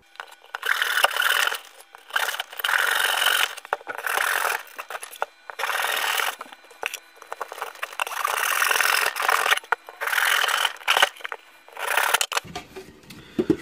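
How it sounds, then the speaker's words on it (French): Hand saw cutting through a wooden cigar box for a ukulele build, rough rasping strokes in repeated bursts with brief pauses, close and fairly loud, ending in a few knocks. "il reste encore une toute petite partie là que je vais découper avec une scie"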